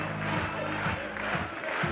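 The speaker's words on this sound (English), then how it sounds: "Awesome to see this crowd right behind her." A big crowd at a bouldering World Cup final in Innsbruck roars continuously behind a climber, a sustained, far-off wall of cheering and shouting with swelling voices that never drops away.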